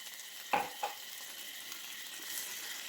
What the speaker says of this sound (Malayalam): 50 ml കപ്പിൽ 1 കപ്പ് തേങ്ങാപ്പാലാണ് എടുത്തിട്ടുള്ളത്. അത് നമുക്കിതിലേക്ക് ഒഴിച്ച് കൊടുക്കാം.